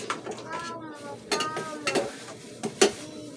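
Pot and utensils clinking and scraping while mung bean stew with fish is cooked at home, several sharp metallic knocks standing out over a low continuous background with faint talk nearby.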